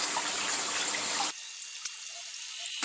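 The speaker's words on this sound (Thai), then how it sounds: "ตอนนี้เริ่มมีเสียงเดือดแล้วนะครับ" An Imarflex electric kettle boils water with a loud, close rushing roar that cuts off abruptly partway through, leaving near silence with a faint click.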